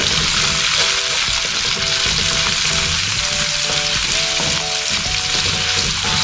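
Onion sautés in a pan with already browned garlic for a vegetable stir-fry, a loud, continuous sizzle that goes on evenly throughout with no pauses.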